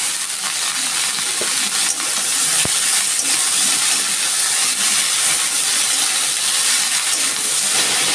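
Sliced bitter gourd hits hot oil seasoned with green chili, salt and spices, giving a loud, steady, close sizzle and hiss that runs unbroken throughout, with a couple of small clicks.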